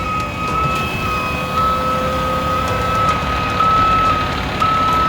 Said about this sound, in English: So you push down on that, and you'll see the front tires shake.